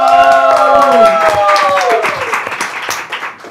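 A studio audience claps to welcome a guest on a Thai talk show roast episode, a strong burst of applause that slowly thins and fades, while a voice trails off at the start and musical tones ring over the opening.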